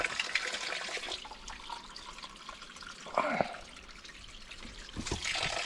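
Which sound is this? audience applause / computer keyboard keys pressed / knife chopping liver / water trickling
water trickling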